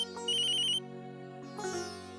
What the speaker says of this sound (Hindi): अक्षरा बेटा का फोन